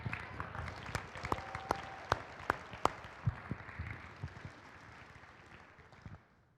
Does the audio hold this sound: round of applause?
yes